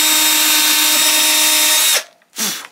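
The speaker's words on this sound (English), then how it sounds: "drill a starter hole" A power drill whines loud and close for about two seconds, boring a starter hole in sheet metal, stops abruptly, then spins up briefly again.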